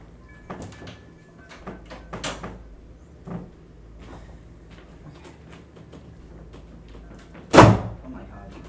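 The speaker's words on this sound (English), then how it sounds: "Sorry for the slam noise, too." A sticky door slams shut in an older building, one loud sharp bang near the end after quieter scattered knocks and bumps, with people talking and reacting around it.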